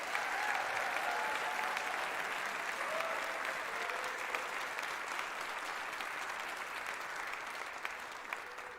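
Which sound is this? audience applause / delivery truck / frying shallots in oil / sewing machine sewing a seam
audience applause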